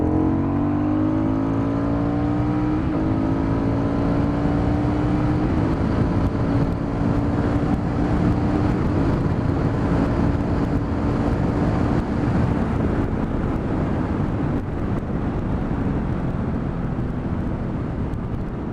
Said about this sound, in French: alors on recommence une petite accel, juste pour le plaisir